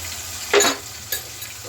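Blended spice paste for Indonesian beef rendang hits hot salted oil with a brief loud sizzle and stir, then a second smaller burst, set against a steady low background hum.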